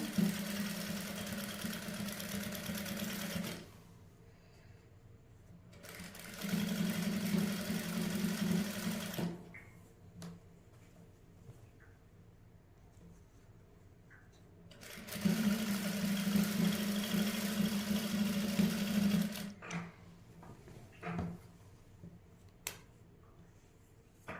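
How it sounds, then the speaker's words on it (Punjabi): A sewing machine runs in three separate bursts while stitching a dress neckline, each a steady whirring hum with needle clatter, separated by pauses of quiet handling and small clicks. "ਆਪਾਂ ਸਲਾਈ ਲਗਾ ਦਾਂਗੇ ਬਿਲਕੁਲ ਹੌਲੀ ਹੌਲੀ ਆਰਾਮ ਨਾਲ ਸਲਾਈ ਲਗਾਉਣੀ ਹੈ"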